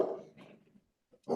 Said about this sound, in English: I see somebody out back letting their little dog.